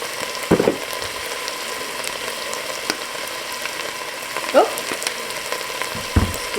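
A spoon stirs chicken chile relleno soup seasoned with oregano and smoked paprika in a pot, giving a low simmering sizzle with a few distinct scraping knocks spaced a couple of seconds apart.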